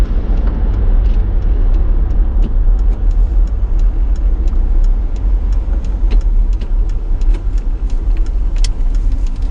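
Car riding along a highway near a junction, with a steady loud rumble of engine and road noise heard from inside the vehicle, with faint rattles and no talking.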